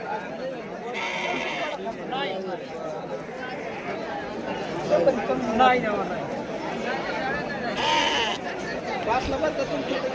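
Sheep bleat repeatedly at a livestock market in Shirur, Pune district, their calls overlapping with constant crowd chatter and nearby voices talking.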